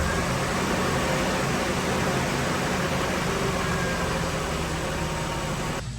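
A Nissan Hardbody truck engine after maintenance, running at a steady loud idle with a dense, even rumble and no pauses, cutting off abruptly near the end.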